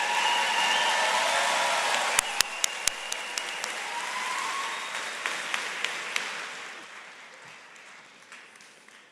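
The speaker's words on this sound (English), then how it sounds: "give them one more round of applause to our graduates" A commencement crowd at the NC State College of Natural Resources gives graduates a sustained round of applause, loud and dense, with a few sharp accented claps early on, then gradually fading.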